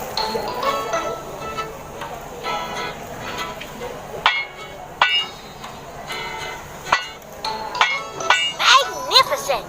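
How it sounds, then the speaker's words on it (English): Hammer blows level out dents on a bulldozer in a repair game: scattered metallic taps and clinks, spaced irregularly and growing denser toward the end, over a light background of game sound. "Use a hammer to level out the dents."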